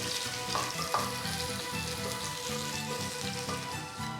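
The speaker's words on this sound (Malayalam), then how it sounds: "അത് നമുക്കൊന്ന് ചെറിയ ബ്രൗൺ കളറാവുന്നവരെ സോട്ട് ചെയ്യാം." Finely chopped small shallots sautéing in hot oil for a Kerala prawn curry, a steady close crackling sizzle with occasional stirring scrapes and spatters, no voices.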